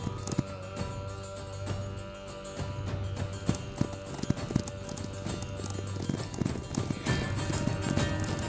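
Horses galloping in the video game Marque of War, a dense rapid clip-clop of many hooves running together through a steady battle din, with sharp knocks and occasional whinnies.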